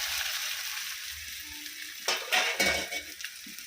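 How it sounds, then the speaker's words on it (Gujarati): Sesame seeds and curry leaves sizzle and pop in hot oil as a tempering for dhokla. Steady frying hiss runs throughout, then sharp crackling bursts and spoon-on-pan clatter break in near the end. "તલના વઘાર કરીએ ને સરસ થાય."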